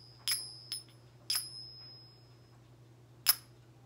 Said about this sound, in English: little finger symbols, watch